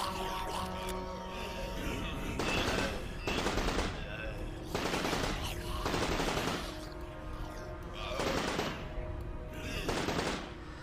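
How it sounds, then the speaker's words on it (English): An AK rifle fires in the video game Unearthed in about six loud, rapid automatic bursts at a steady rhythm over a constant background hum. "the AK seems to have absolutely no stopping power"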